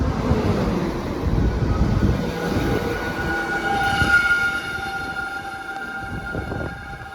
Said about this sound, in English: those brakes are making a bit of a racket